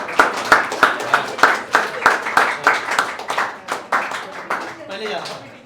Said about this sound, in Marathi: टाळ्या वाजवा फक्त सर्वजण.